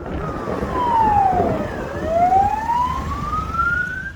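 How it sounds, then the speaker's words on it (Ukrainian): A wailing emergency siren sweeps down and back up in a long cycle, nearby, over the rumble of traffic. "Пам'ятайте, що автівки зі включеними спецсигналами це правоохоронці,"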